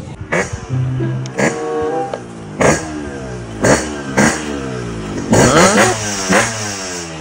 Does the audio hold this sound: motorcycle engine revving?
yes